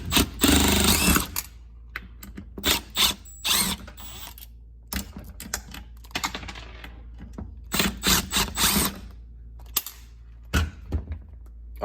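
Mechanical clicks, ratcheting and clattering while a window motor is unbolted and pulled from a Chevy Cruze door regulator with a broken bracket, coming in short irregular bursts, close and fairly loud, with quiet gaps between.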